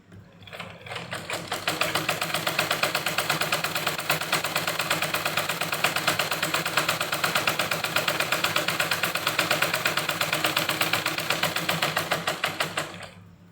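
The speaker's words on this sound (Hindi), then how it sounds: "ये हमने अपनी ऐसी बेल्ट की सिलाई कर दी।" An electric sewing machine stitches a garment belt with a steady, fast mechanical chatter. It runs continuously and fairly loud for about twelve seconds, then stops.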